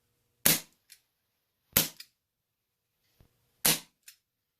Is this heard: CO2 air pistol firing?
yes